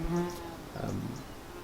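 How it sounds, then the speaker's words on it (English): Male bumblebees buzz around a Spanish lavender shrub beside a house in a June garden, a soft continuous drone with a fly-by swelling briefly, faint and close amid quiet outdoor background. "This one, right by my house, is absolutely buzzing with male bumblebees today."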